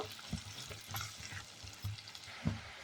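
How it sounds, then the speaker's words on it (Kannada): Onions frying in melted butter in a pan give a faint, steady sizzle, broken by a few soft clunks of stirring. "ಈಗ ಬೆಣ್ಣೆ ಜೊತೆಗೆ ಈರುಳ್ಳಿ ಹಾಕ್ತಿದ್ದೀನಿ ಈರುಳ್ಳಿನ ಬೆಣ್ಣಿನಲ್ಲೇ ಬೇಯಿಸ್ಕೋಬೇಕು"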